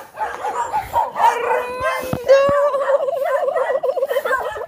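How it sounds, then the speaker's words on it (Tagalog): Several dogs bark and howl close by, with a drawn-out wavering howl over sharp barks, loud and continuous. "kasi maingay yung mga aso."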